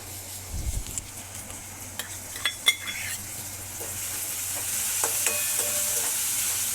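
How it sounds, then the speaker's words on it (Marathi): Tomatoes stirred and frying in a pan, with a soft sizzle that grows toward the end, metallic utensil clinks and scrapes against the pan, and a brief low thump early on. "टोमॅटो चांगला मिक्स करूया।"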